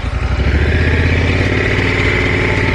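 A motorcycle engine revs hard and steady while climbing a steep, tight stretch of road near St Ives in Cornwall, a loud, close, continuous throbbing drone with no talking.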